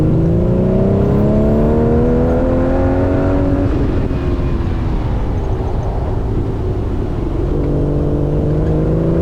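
A Triumph TR6 engine revs and pulls hard at a Curborough sprint track, its harmonic drone climbing in pitch, easing back briefly, then rising again, loud and close throughout with no talk.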